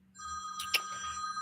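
A telephone rings from an unknown number indoors, a faint steady electronic tone with a brief brighter burst in the middle, heard alone at low level.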